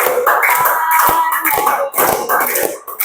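Children clapping their hands in a primary-school classroom, a dense run of close, loud, slightly uneven claps with a few sharper individual slaps standing out.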